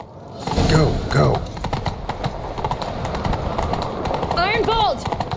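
Hooves of a galloping horse in The Witcher 3: Wild Hunt, a rapid clip-clop rhythm carried under the game's music and ambience, with short bursts of character dialogue over it.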